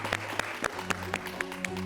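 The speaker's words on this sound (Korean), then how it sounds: "박수 한번 쳐주시죠" A studio group of K-pop idols claps together at the end of a segment, with sharp, uneven hand claps close by over a few seconds and faint background hum.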